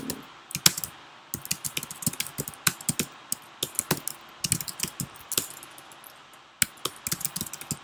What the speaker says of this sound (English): Just typing a message here.